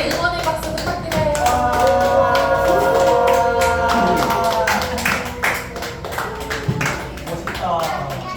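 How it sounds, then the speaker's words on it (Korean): Congregation applause for a pastor during a church radio-style program, a run of sharp claps over sustained tonal music, with voices talking in the background. "목사님 자리로 돌아가실 때 응원의 박수 부탁드려요"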